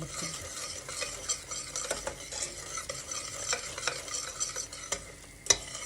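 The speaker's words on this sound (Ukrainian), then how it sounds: "наш цукор розтане і почав потихеньку кипіти" Steady crackling and bubbling of sugar melting and starting to boil in a pan, with occasional stirring scrapes and a sharp clink near the end.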